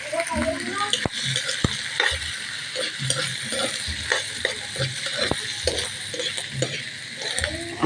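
Squid frying in a pan while being stirred, a steady close sizzle with repeated sharp clicks and scrapes of the utensil against the pan throughout.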